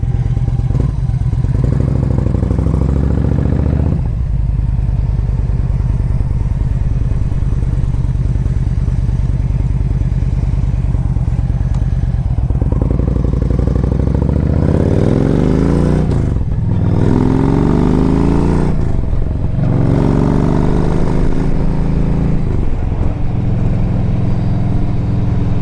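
A 2007 Yamaha V Star 1300 motorcycle with Cobra aftermarket pipes and a tuner rumbles loud and close with a deep, throaty exhaust, revving up through gears and dropping back between shifts as it rides along.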